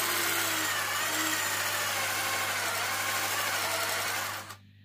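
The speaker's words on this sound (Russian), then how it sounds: "вот так одевайте напильник на шуруповерт." A cordless screwdriver spins a file inside a drilled hole to widen it, giving a loud, steady whirring motor drone with a constant hum that runs continuously for over four seconds before stopping abruptly.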